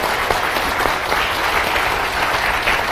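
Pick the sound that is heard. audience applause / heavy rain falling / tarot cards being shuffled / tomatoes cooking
audience applause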